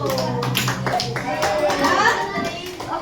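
Schoolchildren at an elementary school outreach session clap their hands in scattered, uneven bursts close by, while children's voices and an adult's speech run over the clapping.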